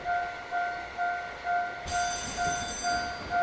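A train runs in the video game A-Train All Aboard Tourism, with a steady rhythmic clatter of wheels pulsing about twice a second and a sustained high tone joining partway through.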